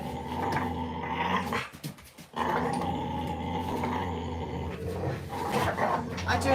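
Pet dog Alfie growls and snarls close by in a home, a steady rumbling growl that runs almost without a break, dropping out for a moment partway through, with other barking and noisy activity mixed in.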